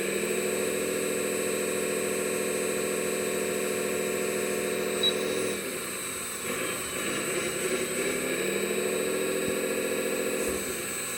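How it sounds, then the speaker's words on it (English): Engine of an RC wheel loader runs steadily as its boom is raised by joystick, a constant mechanical whine and hum that shifts and strains partway through before settling again, fairly close with no talking. "as the boom goes up, the engine's working harder."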